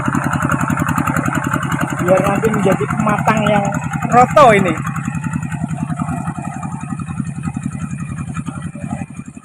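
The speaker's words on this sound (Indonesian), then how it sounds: "Kali ini kita lagi melihat traktor nih, lagi membajak sawah atau melupu nih" A hand tractor plows and levels a flooded rice paddy, its engine chugging in a steady fast pulse throughout while someone talks over it nearby.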